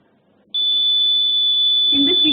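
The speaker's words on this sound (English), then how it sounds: "now we hear the alarm will be raised" A heart-rate sensor's alarm buzzer starts abruptly after a quiet moment and holds one steady, piercing electronic tone, with a voice starting to speak beneath it near the end.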